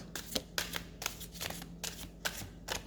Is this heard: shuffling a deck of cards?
yes